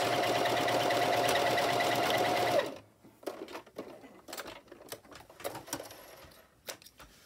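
A sewing machine runs a steady, close whir stitching the back seam of a doll dress, then stops after a few seconds, leaving scattered light handling clicks and taps.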